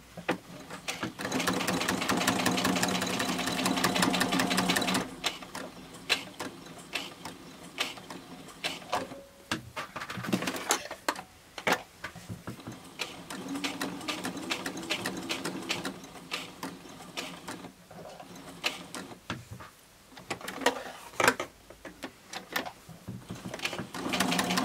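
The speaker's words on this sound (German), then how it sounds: "Und dann nähe ich mit der Nähmaschine diese eingezeichneten Linien nach." A sewing machine stitches at a short stitch length around lines drawn on fabric for a wallet, a steady mechanical whirring that runs loud and continuous at first, then comes in shorter bursts with pauses between.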